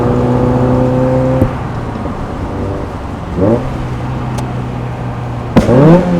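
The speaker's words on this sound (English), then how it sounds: "And they pop between shifts too, which is cool. Yeah. Like a small little pop." A Mazda Miata with a pops-and-bangs tune runs at steady engine drone, broken by brief shift transitions and a couple of sharp short pops from the exhaust, heard from inside with no talking.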